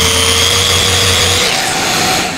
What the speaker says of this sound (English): thing with this sander is you have to really get a hold of it because it'll get away on you fast in the rough mode